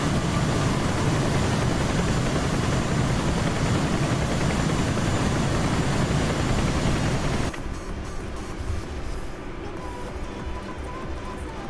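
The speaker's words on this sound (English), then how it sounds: "I hear a Huey." A Huey helicopter flying near an airfield taxiway, a loud continuous rotor and engine roar that drops in level partway through and then continues more steadily.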